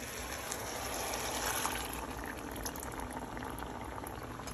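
Water poured from a yogurt bowl into a pan of cooking chicken produces a steady, loud bubbling and gushing liquid hiss that runs continuously and fades slightly toward the end.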